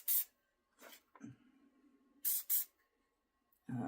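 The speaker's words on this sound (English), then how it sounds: "I want to make sure I spray the top of the door and the sides." Rust-Oleum spray paint hissing from an aerosol can onto a small candle door in several short, close bursts separated by pauses, with faint handling noises in between.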